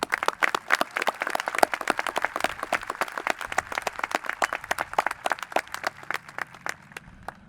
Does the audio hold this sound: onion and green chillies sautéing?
no